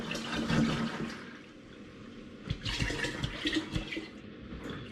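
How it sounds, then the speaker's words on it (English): Liquid Rauchbier wort, a smoked German lager-style beer wort, pours and splashes into a fermenter in a continuous close gush with bubbling surges, without talk. "I'm now going to add my Rauchbier"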